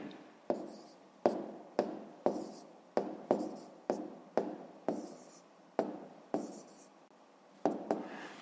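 Numbers written by hand for a fifth-grade math exercise, pen strokes on paper coming in a regular series of about a dozen short scratchy marks, close and clear without talking.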